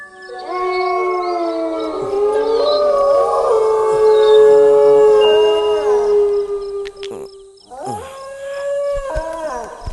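A dog howls at night in long, wavering, high-pitched cries, holding one drawn-out howl for several seconds, then pausing briefly before starting another mournful wail nearby.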